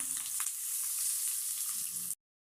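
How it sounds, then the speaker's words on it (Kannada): Cloves, cinnamon, ginger and onions fry in oil in a pan, giving a steady, close, moderately loud sizzle that cuts off abruptly. "ಬಾಣಲಿ ಇಟ್ಕೊಂಡು ಸ್ವಲ್ಪ ಎಣ್ಣೆ ಹಾಕ್ಕೊಂಡಿದ್ದೀನಿ. ಫ್ರೈ ಮಾಡ್ಕೊಳ್ತೀನಿ."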